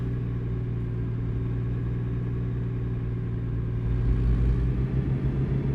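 A Kenworth truck engine in American Truck Simulator drones steadily at a low, even pitch, growing slightly louder toward the end, with no talk.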